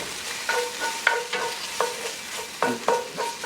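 Tomato paste and scallion sizzling in a hot pan while being stirred, steady frying hiss with a series of scraping, clattering strokes of the utensil in an irregular rhythm, close and moderately loud.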